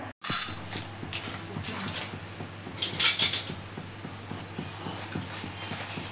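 Tamarind being mashed by hand in a bowl for its juice while making sambar, giving a steady run of soft, regular squelching and tapping strokes with a few louder clinks of a dish, close and alone.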